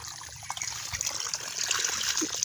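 Water trickles and gushes steadily into a tank used for raising stinging catfish (shing fish), a close, continuous splashing flow with no talk.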